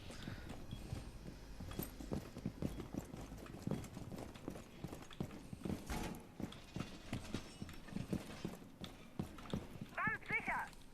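Horse sounds in the video game Minecraft: rhythmic hoof clip-clop steps run throughout under quiet background noise, ending with a short high whinny near the close.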